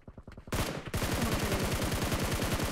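Rapid gunfire in a first-person shooter game in hardcore mode, a few spaced shots that break into a loud, sustained automatic burst, close and dense.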